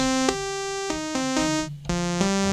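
A plain initialized-patch synthesizer tone from Krotos Audio Concept with rich harmonics, playing a few sustained notes in sequence, steady and bright, each note starting abruptly.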